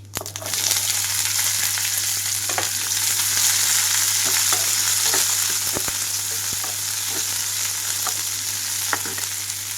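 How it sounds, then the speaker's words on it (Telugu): Cauliflower pieces dropped into hot oil with crackled mustard seeds, a loud continuous close sizzle with occasional stirring clinks and scrapes, no voices. "ఆవాలంతా చిటపటమంటూ వేగిన తర్వాత కట్ చేసి పెట్టుకున్న క్యాలీఫ్లవర్ ముక్కలన్నీ కూడా ఇందులోకి వేసేసుకుంటున్నాను"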